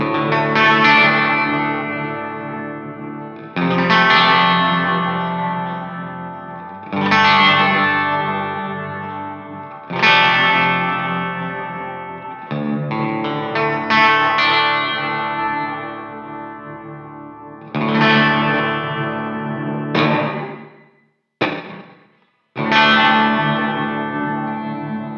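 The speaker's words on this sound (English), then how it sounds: "This is called club glitch. The reason is it's a club-sized reverb with some glitchiness going on." A Polyend Mess stereo multi-effect unit running its club glitch preset, a club-sized reverb with glitches, plays a sequenced synth pattern of sustained, distorted chords in repeating phrases that cut off abruptly and stutter near the end.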